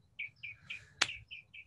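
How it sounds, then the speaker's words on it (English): Birds chirp outside, a series of short bright tweets spaced evenly apart with one sharp click in the middle, fairly close and clear against a quiet background. "You hear that? Is that a bird? There's birds outside."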